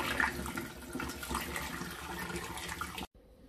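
Fermented pineapple drink (tepache) poured through a sieve and funnel, a steady close splashing liquid pour that runs continuously for about three seconds before stopping abruptly.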